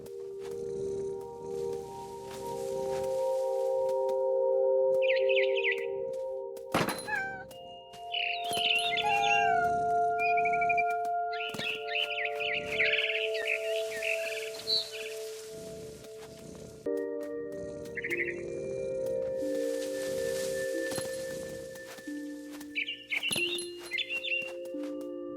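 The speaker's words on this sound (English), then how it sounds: "Then I heard chirping outside my window. It was a barn swallow going back to her nest." A barn swallow chirps in the video game What Remains of Edith Finch, with short high chirps that come and go over sustained musical tones and soft rustling.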